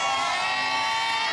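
A carnival parade crowd in Ipiales during the grand parade of a thousand dancers, shouting and cheering as a dense, sustained roar of many voices close by throughout, with no clear individual words.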